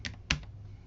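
Two quick, crisp computer keyboard key presses typing a command into a terminal, close and isolated over a faint background hum.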